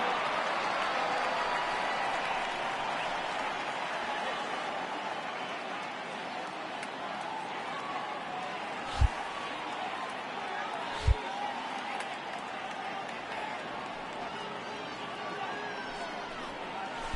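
A baseball video game stadium crowd keeps up a steady low murmur throughout, with two brief sharp thumps standing out partway through; a commentator's voice may run underneath.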